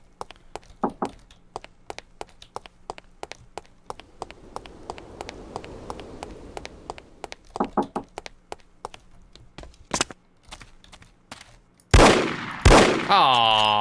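Sharp, separate gunshots from the shooter No One Lives Forever ring out in irregular clusters across a quiet background, then a louder burst of impacts and crashing near the end, with speech in the mix.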